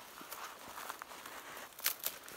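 Crisp crunching footsteps on the frozen edge of Doane Pond on Palomar Mountain, several uneven steps with sharp crackles, close and fairly clear with no talking.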